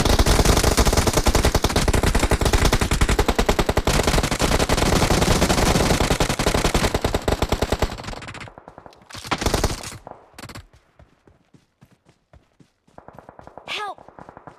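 Dense automatic gunfire in a video game, loud and continuous for about eight seconds, then sparser scattered shots and bursts as the firing trails off.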